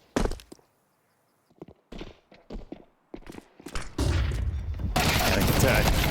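Counter-Strike gunfire during a professional esports match, with short separated bursts of shots and thuds that build into a loud, dense, continuous barrage of rapid fire near the end.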